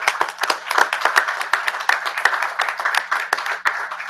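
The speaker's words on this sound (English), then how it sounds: "let's give him a big round of applause" A city council meeting audience applauds a police lieutenant, with brisk, dense clapping that is close and fairly loud and continues steadily throughout.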